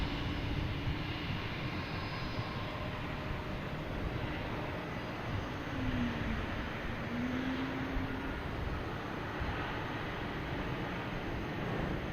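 FedEx MD-11 jet aircraft at Boston Logan Airport, a steady distant engine roar that fills the whole stretch at low level, with a faint tonal whine shifting midway.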